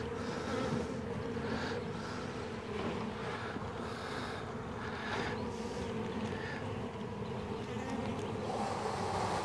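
Honey bees drone in a steady, dense buzz around an open hive during a queen inspection, continuous and moderately loud, with no voices.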